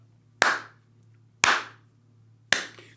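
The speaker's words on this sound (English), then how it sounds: "cue the slow clap" Three slow, separate hand claps land about a second apart, each sharp and close with a short fading ring, over a low steady hum.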